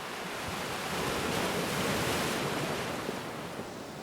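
Strong wind across an open bay in Vancouver buffets the microphone of a moving e-bike, a dense, steady roar of broadband rushing noise that stays loud and unbroken for the whole stretch, with no voices.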